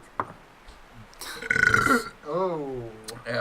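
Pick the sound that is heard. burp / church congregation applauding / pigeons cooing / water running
burp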